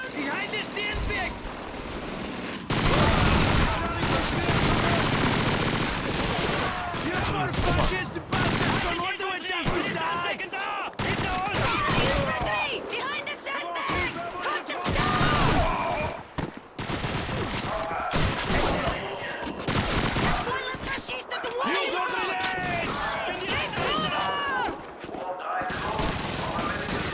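Semi-automatic gunfire in a video game: rapid, loud bursts of shots in a busy battle, mixed with explosions and in-game voices shouting.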